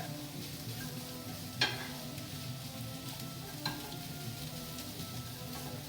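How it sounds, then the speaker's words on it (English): Egg and chorizo frying in a pan for homemade migas, a steady low sizzle running throughout with two brief louder spatters or utensil taps, close and alone with no talk. "The egg is cooking. The chorizo is starting to cook."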